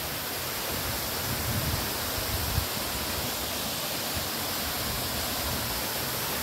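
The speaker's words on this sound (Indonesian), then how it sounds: "kita sudah sampai di air terjun Gunung Gubuk" Kulu Kubuk waterfall at Madobag, Siberut, Mentawai pours in a steady, dense rushing roar that stays loud and unchanging throughout, with no voices heard.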